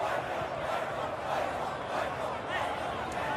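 The home crowd at a Perth Glory versus Brisbane Roar A-League football match makes a steady, distant roar of massed voices, with a commentator talking over it.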